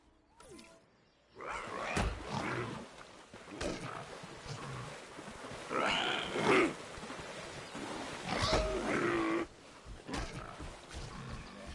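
Stygimoloch dinosaurs fight in the video game Jurassic World Evolution 2, with loud overlapping roars, growls and snarls that rise and fall continuously over a busy game background.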